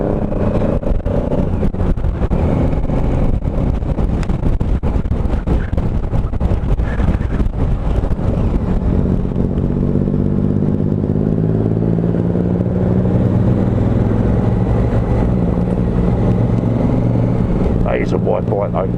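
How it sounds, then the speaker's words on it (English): A wide motorcycle's exhaust note roars past on a ride, loud and wind-buffeted at first, then settling into a steady, rising drone; a rider talks over parts of it. "you can also appreciate the exhaust note on it"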